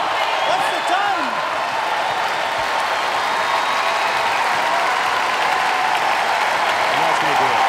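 Steady, dense roar of a large arena crowd cheering through a CrossFit Games men's individual Echo thruster final, holding at one level the whole time with broad hiss and a faint voice underneath.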